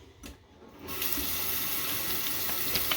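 Water running steadily from a tap into a sink, starting after a brief quiet moment and continuing as an even, fairly close hiss, with no talking.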